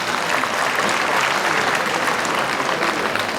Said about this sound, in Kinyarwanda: mubahe amashyi menshi.